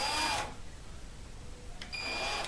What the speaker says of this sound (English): pretty much you're just going to countersink a little bit and then you're going to test the screw